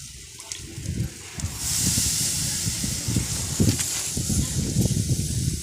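Oil drizzled around dhapate flatbread frying on a hot pan gives a steady close hiss and crackle with faint scraping ticks, growing denser and louder partway through.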